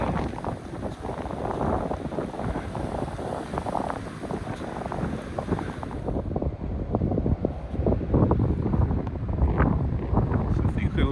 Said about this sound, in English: that rain's caught me well and truly